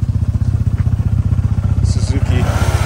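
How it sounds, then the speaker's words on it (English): Two-stroke Suzuki motorcycle engine at a crowded Japanese car meet, a loud rapid pulsing idle with a steady low throb, while people talk nearby. "Look at this guy with his two-stroke"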